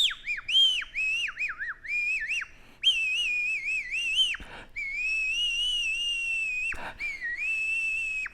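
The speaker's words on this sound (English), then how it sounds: "I'm holding option number 2, nose flute." A 3D-printed nose flute plays a loud, close, breathy whistle-like melody, a single pure tone sliding and wavering in pitch through sustained notes with brief breaks between phrases.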